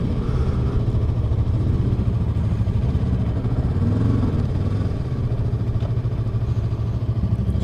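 Yamaha R3 motorcycle engine humming steadily while riding in second gear, a smooth continuous mid-pitched drone with slight shifts in revs, close and fairly loud throughout.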